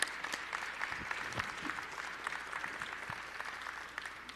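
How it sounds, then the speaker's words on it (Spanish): A standing audience applauds at the closing ceremony of a supplier fair, with sustained, fairly soft clapping that fills the room for several seconds and no voices on top. "Yo te pido que nos recibas un aplauso poniéndote también de pie"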